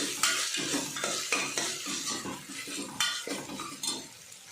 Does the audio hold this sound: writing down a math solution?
no